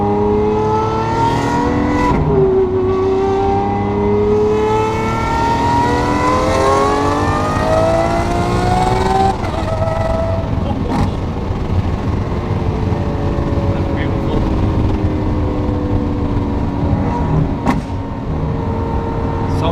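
A Gintani-tuned supercar engine drones loudly and steadily from inside the cabin on the road, its rising and falling harmonic tones showing repeated acceleration and shifts, with no talking.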